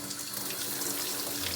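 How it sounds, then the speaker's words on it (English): A kitchen tap runs in a steady, unbroken stream as a golf grip is rinsed under it, with the water splashing close and even throughout and no talking. "I'll just rinse this off real quick so you can grab it."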